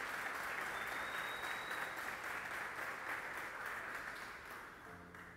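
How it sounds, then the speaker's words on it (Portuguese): A church congregation claps together during an evening service, a dense, steady wash of applause that holds strong and then gradually fades toward the end. "Você pode aplaudir a Ele por isso nessa noite?"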